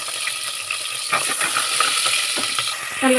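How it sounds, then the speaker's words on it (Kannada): Onions frying in oil inside a pressure cooker for spinach pulao, with a steady hiss of sizzling and light scraping and clinking from stirring. "ಈರುಳ್ಳಿ ಚೆನ್ನಾಗಿ ಕೆಂಪು ಹುರ್ಕೋಬೇಕು"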